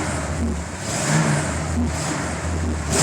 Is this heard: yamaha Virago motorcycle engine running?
yes